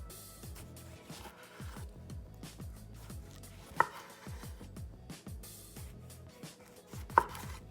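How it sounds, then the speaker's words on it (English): A knife slicing tomatoes on a cutting board for bruschetta, a steady run of close, crisp chops with a couple of sharper knocks against the board, no talking. "So first we're just gonna cut in slices."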